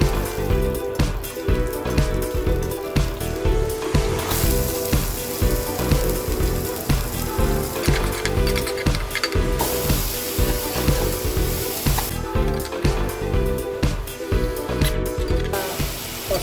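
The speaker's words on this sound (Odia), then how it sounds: "ମୁଁ ଏବେ ଅଣ୍ଡାକୁ ଭଲ ଭାବରେ ଭାଜି ଦେଇଛି ତେଲରେ।" Eggs fry in mustard oil in a kadai, a dense continuous crackling sizzle with sharp spitting pops, close and loud, holding steadily throughout with no talking.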